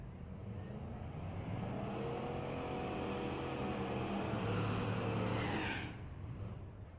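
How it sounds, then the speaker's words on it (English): Drag race cars at a race week meet wrap up a burnout: a supercharged big-block Chrysler wagon and a Mustang. Their engines roar loudly and hold a rising, harmonic-rich drone, then cut off sharply near the end. "Next pair finishing their burnout."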